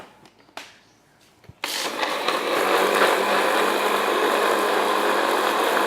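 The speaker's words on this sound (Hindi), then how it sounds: "ब्लेंडर को चलाएंगे।" After a few quiet clicks and clunks, a blender starts abruptly and runs at a loud, steady whir until the end.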